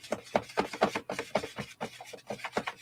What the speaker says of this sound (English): Let's scrape the sides.